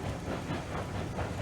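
The locomotive Eureka strains up an inclined grade, pulling its train at a crawl, with a steady low rumble and soft rolling clatter throughout, fairly close.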